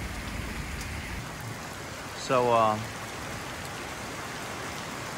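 Heavy rain pours steadily during a Texas rain storm, a dense, even hiss throughout, with a brief spoken word and a short tonal blip partway through.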